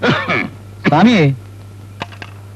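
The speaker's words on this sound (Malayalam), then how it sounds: "എന്താ ഒരു വല്ലാത്ത ചുമ?" A man coughs and clears his throat in two close rough bursts, harsh and voiced, followed by a couple of faint clicks in a quiet room.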